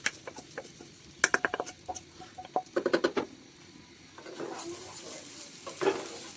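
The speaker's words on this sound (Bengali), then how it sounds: "চালটা একটু সুন্দর করে ভেজে নেব" Washed rice being stir-fried with fried onion in a pan for vegetable fried rice, heard as a spatula clattering and scraping in quick irregular strokes, then a soft steady sizzle, fairly faint and close.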